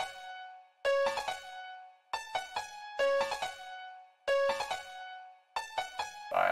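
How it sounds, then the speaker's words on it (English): A second, brighter piano part from a hip-hop beat plays short repeating phrases of quick notes in groups, each cluster ringing and fading, fairly soft and on its own. "Later in, I added a second piano that sounds like this."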